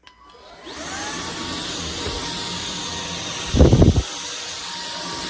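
An Iirios 550W 45kPa cordless vacuum cleaner starts up and settles into a loud, steady whining hum, with a brief louder gulp of suction as it picks up debris such as cat litter.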